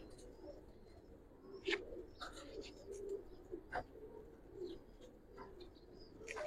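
Giribaz pigeons in a loft coo softly and intermittently, with a few brief sharper calls over a low background hum.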